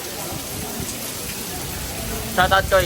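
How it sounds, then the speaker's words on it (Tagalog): Heavy typhoon rain pours down in a dense, steady hiss that covers everything. Voices briefly rise over it near the end. "Lakas ang ulan sobra."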